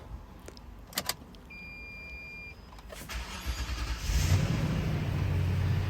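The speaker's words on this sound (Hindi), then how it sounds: "उसी टाइम ही दोबारा स्टार्ट करें तो लंबी स्टार्टिंग है।" A Toyota V8 with a failing fuel pump and filter cranks for several seconds before it finally catches and settles into a loud, steady idle close by. A few clicks and a brief whirr come first.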